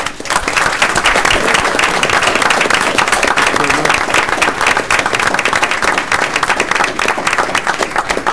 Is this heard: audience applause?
yes